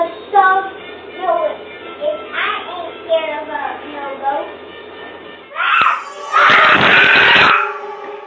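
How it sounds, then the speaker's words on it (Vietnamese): Two children scream in fright, first a run of frightened moaning, wailing cries, then a loud, harsh burst of shrieking that lasts a couple of seconds, close and intense. "điều này xảy ra làm cho hai đứa bé sợ hãi la hét và bỏ chạy"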